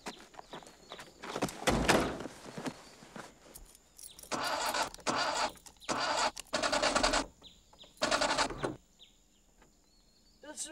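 A new car engine cranks and catches, with bursts of starter churn and revving in repeated loud surges separated by short pauses, heard close up.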